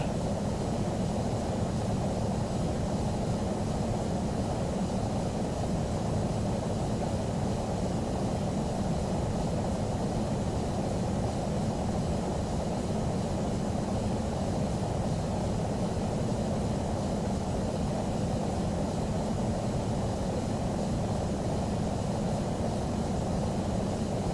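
Engine and airflow noise from a Boeing 737-800 in Microsoft Flight Simulator X, heard from an outside view during a Delta flight, forms a continuous, even, moderately quiet drone that holds steady throughout with no voices.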